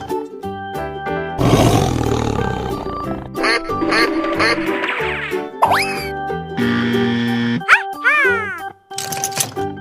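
A cartoonish tiger roars in a 3D animal slide video game, loud and close, set among game music, boings, quacks and other character sounds, with a voice speaking briefly.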